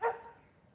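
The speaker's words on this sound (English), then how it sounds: "And these dogs, they're barking everywhere." A single short dog bark sounds at the start, fairly close and moderately loud, then fades into quiet outdoor background.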